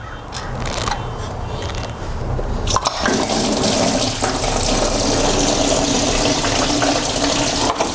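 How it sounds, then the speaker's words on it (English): Engine coolant pours from a BMW E30's M20 engine during a timing belt job and splashes into a bucket below, a steady loud rush of liquid that swells after a brief drop near the three-second mark and keeps running. "a ton of coolant came out, but luckily everything landed inside of the bucket"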